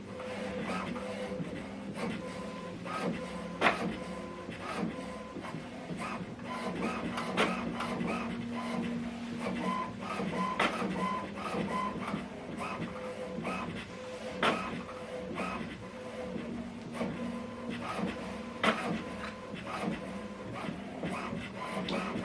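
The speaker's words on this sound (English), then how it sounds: "it's showing us here aligning cartridges is what it's doing right now" An HP Envy Inspire 7920e printer runs its cartridge alignment, a steady mechanical whir with repeated clicks and carriage movements throughout, with no voices over it.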